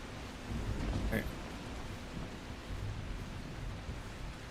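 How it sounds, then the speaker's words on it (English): Steady rain hisses as a continuous, even wash of broadband noise in The Last Caretaker video game, with a brief louder swell early on and no distinct drops standing out. "See, it's raining again."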